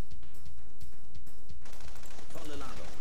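Rocket launcher unit firing in Command and Conquer Remastered: a run of sharp, rapid shots and bursts, loud and close, giving way to a denser wash of battle noise near the end.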